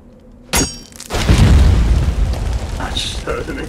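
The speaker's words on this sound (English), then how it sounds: "I just heard an explosion." A sharp pop is followed by a loud, rumbling explosion during a raid in the game Conan Exiles that booms and then slowly fades into crackling debris, with brief voice-like sounds near the end.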